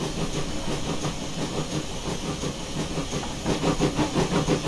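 Simulated 9400 class pannier steam locomotive from Train Simulator Classic chuffs steadily with an even, repeating exhaust beat over hissing steam and rail rumble, loud and close throughout, with no voices.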